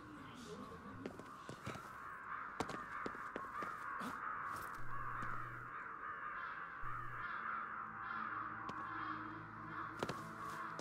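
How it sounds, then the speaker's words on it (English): Crows caw repeatedly in the Ghostwire Tokyo video game, a string of harsh calls over a steady ambient hum, with a low tone at times and no talking. "So the crows are chilling here."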